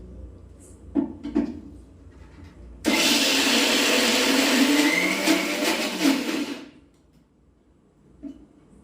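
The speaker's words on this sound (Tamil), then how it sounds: "லைட்டாக அப்படியே பொறன்னு ஒரு ஓட்டை தான் ஓட்டணும் மிக்சியில்" A mixer grinder whirs loud and steady for about four seconds as it coarsely pulses dal, with quieter kitchen clatter and handling before and after.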